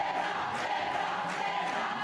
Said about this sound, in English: Crowd getting behind Brenda Castro